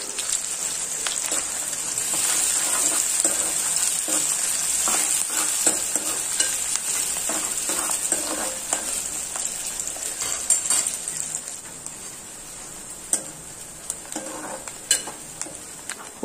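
Chopped onion and green chillies frying in hot oil with mustard seeds, a bright, continuous sizzle with scattered clicks and spatters that eases slightly toward the end, alone without voices.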